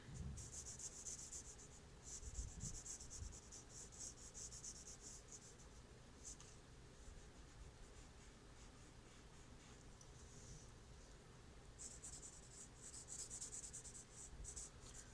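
A pencil scratches across paper in continuous close strokes, with bursts of quicker shading that rise and fall over a quiet room, with no one speaking.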